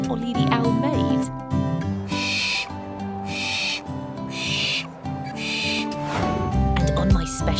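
Cartoon owl Ollie gives a series of bright, repeated calls in short bursts over a musical background.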